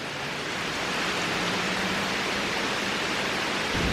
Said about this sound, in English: nice gentle rain.